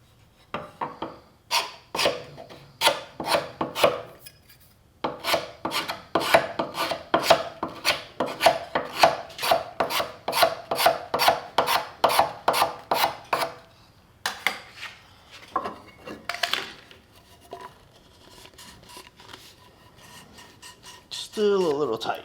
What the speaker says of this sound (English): so I use a card scraper instead.